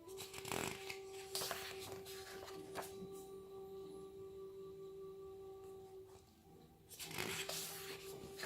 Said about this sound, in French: je vais tourner les pages du livre